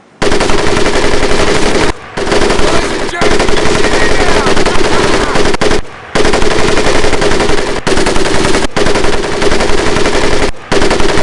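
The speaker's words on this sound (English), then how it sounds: "One is to act as a spotter and reloader, the other will fire the weapon." A machine gun in the World War II game Medal of Honor Pacific Assault fires loud, close, sustained bursts of rapid shots, broken by a few short pauses.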